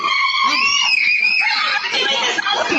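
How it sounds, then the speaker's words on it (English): A family screams while running indoors from a bear, with high, sustained shrieks from several voices overlapping and breaking into frantic, laugh-like cries, close and loud throughout. "that's the screams you hear when they run inside"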